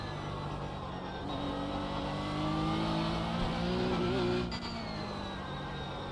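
Ferrari race car engine in a DTM racing video game, a steady loud drone that climbs in pitch as it revs up through the middle, then drops briefly as if shifting before holding on, with no talk.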